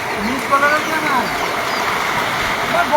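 Floodwater near a bridge in Burichang, Comilla, Bangladesh, rushes and swirls in a steady broad wash, with a voice talking over it in the foreground.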